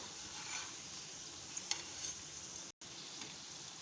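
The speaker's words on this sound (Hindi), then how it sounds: "ये देखें, दोनों साइड से मैं इनको कुक कर रही हूँ।" Potato patties for aloo burgers frying in a pan, a faint, steady hiss with a few soft pops and a brief dropout of sound partway through; no talking.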